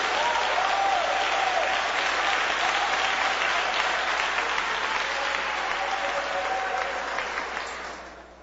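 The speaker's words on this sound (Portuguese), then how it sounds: "Palmas para Jesus, mais palmas para Jesus" Church congregation clapping in sustained, dense applause that fills the space, steady and loud before fading out at the end, with no talk over it.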